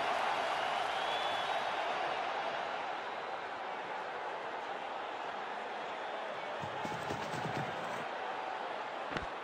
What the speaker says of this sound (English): Crowd's gone mad.